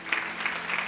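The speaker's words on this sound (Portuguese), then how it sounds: "Você pode aplaudir ao Senhor?" A church congregation applauds during a Portuguese-language sermon, a steady wash of many hands clapping at once, moderately loud and sustained with no voice over it.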